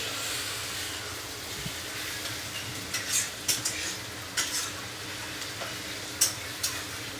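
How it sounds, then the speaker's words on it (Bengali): Onions fry in a pan with a steady close sizzle, punctuated in the second half by several sharp clinks and scrapes of a utensil stirring against the metal. "হচ্ছে পেঁয়াজ ভাজা হচ্ছে।"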